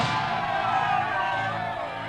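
A large crowd at an election rally in a Balakrishna action film cheers and shouts in a dense, steady roar, loud and close throughout, gradually easing near the end.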